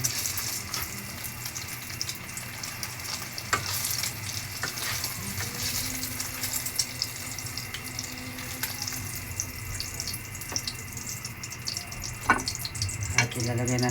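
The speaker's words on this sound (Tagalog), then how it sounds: "gisa na naman tayo ng patula mga idol. Lagyan natin yung garlic at onion." Patola (sponge gourd) with garlic and onion sautéing in a pan, a steady close sizzle of frying with occasional stirring clatter and faint running-water sounds throughout.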